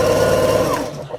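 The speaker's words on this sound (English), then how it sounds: "when I sew these together" Sewing machine stitching quilt scraps together, a steady close whirring hum that runs evenly for about a second, then slows and stops with a small mechanical clunk.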